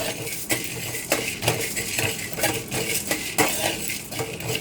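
Coriander seeds, cumin and fenugreek stirred in a pan for curry leaf powder: a spoon scrapes and clinks against the metal in a steady, close rhythm with sharp knocks every second or so, no talking.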